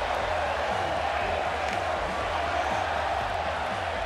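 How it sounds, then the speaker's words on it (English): Arena crowd noise in the WWE 2K18 wrestling game at a Monday Night RAW match, a continuous loud murmur and roar of spectators with faint cheering. "these women may be caught off guard a bit by the stellar crowd reaction they're receiving here"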